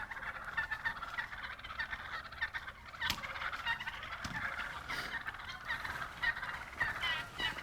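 A group of young wild jake turkeys gobbles repeatedly from a spring roost, the rattling calls overlapping in bursts at moderate distance against quiet outdoor background.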